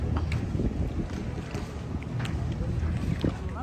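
Dubai RTA abra boat on Dubai Creek, with a steady low engine drone and wind noise throughout, a faint splash or tap now and then, and people talking in the background.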